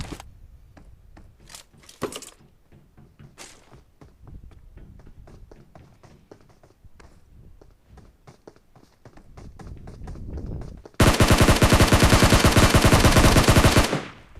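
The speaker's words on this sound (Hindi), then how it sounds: "फिलहाल यहाँ पे प्री फायर करके इसको मार दिया बहुत ईजिली।" Gunfire in the mobile battle royale game PUBG Mobile: scattered single shots and taps, then a loud, sustained burst of rapid automatic fire near the end, with no talking.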